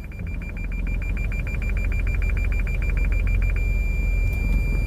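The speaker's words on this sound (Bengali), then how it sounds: "এখন পার্কিং সেন্সর অনেক বেশি শব্দ করতেছে" A reversing car's parking sensor beeps in a rapid run that merges into one continuous tone as the car nears a wall, over a steady low engine hum.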